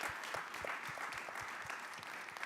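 An audience at an energy and climate forum session in Vienna applauds the speakers, giving a steady patter of many hands clapping throughout, fairly soft and unaccompanied by talk.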